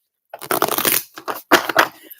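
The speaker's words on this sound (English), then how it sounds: "Put a heart in the comments, Monette, when you want me to stop shuffling, unless a card jump off the deck for you" A deck of cards is shuffled by hand in several brisk bursts of riffling and slapping, close and clear, separated by short pauses.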